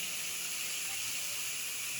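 Food sizzles in a hot pan, a steady broadband hiss of frying with no breaks, moderately loud and close, with no talking over it.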